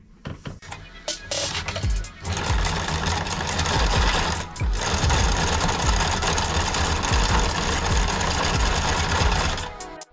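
A sewing machine set to satin stitch runs steadily and close up, with a fast, dense mechanical whir that keeps going for most of the stretch after a few short starts.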